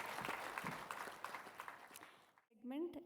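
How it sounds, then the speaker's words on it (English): Audience applause for the speakers at a guru's birthday celebration, a fairly faint, scattered clapping that stops abruptly, followed by a voice speaking. "Let's give a big round of applause for our wonderful speakers."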